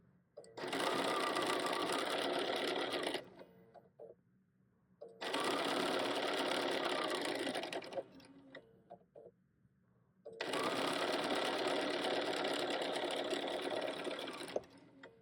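Sewing machine chain-stitching a stack of quilt pieces, three long bursts of fast, steady whirring and clatter separated by short quiet pauses, close and loud.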